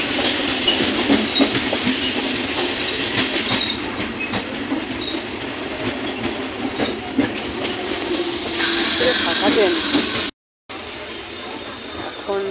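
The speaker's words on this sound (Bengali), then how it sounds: "আপে ট্রেন ঢুকে গেল আমার, এখন ডাউন ট্রেনের খবর নেই" A train pulls in and passes by, giving a loud, continuous close rumble with clattering wheels and some high squealing. There is a brief dropout near the end before the rolling noise resumes.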